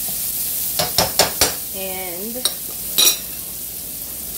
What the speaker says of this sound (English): the avocado is basically frying up in the bacon grease